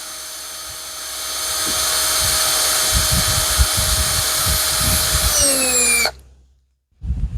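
Small Dremel rotary tool spinning to clean out a corroded bulb socket on a 1996 Ford F250, a loud steady high whine with scraping contact noise that winds down and stops, followed by a brief quiet gap.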